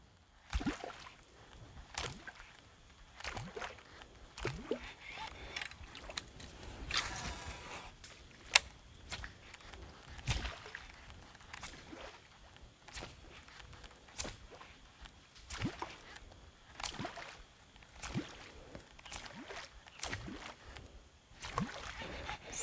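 A Tobi Popper Jr topwater fishing lure is jerked across the water, producing repeated sharp splashy pops and bloops at irregular intervals, close and fairly crisp over quiet outdoor background.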